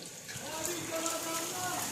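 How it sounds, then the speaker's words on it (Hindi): Steady rain falls outdoors with a soft, continuous patter heard faintly throughout while a voice talks over it. "ओ डैडी आज तो बारिश हो रही है"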